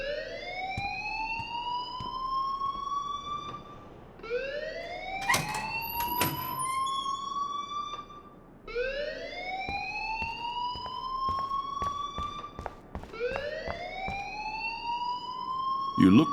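School alarm ringing in the video game Life is Strange, a rising electronic whoop repeating four times in slow cycles, loud and close, with people talking underneath.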